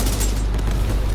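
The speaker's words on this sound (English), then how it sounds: "Let's throw a frag." A frag grenade blast in The Division 2 fills the moment with a dense, loud rumble, a steady low roar of explosion and debris with no voices.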